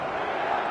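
A large stadium crowd in the eFootball soccer game on PS4, a steady roaring wash of cheering voices heard briefly and evenly, with no single voice standing out.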